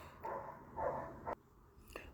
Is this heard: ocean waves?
no